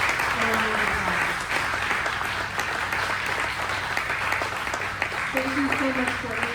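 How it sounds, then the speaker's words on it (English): Audience at a policy event applauding infrastructure panelists, steady dense clapping throughout with voices talking over it near the start and end. "If y'all want to give our infrastructure folks a round of applause."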